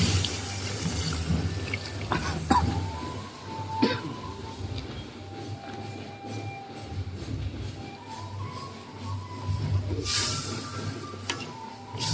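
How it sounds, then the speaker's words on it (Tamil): Water poured from a pot into a cooking vessel for village-style chicken biryani, an outdoor splashing and trickling stream heard close by, steady with a few louder splashes and clinks. "நம்ம அளவுக்காக ஒரு சொம்பு தண்ணி ஊற்றிக்கிட்டு இருப்போம்"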